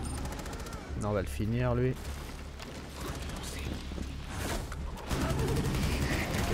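Repeated bursts of automatic gunfire in Rainbow Six Extraction, loud and close, with a sharp cluster near the middle and more shots toward the end, while someone speaks French over parts of it.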